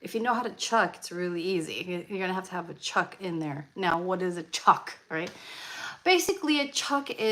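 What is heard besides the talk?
No distinct noise like a dog, phone or traffic.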